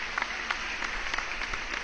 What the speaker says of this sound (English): let's give Emmanuel a round of applause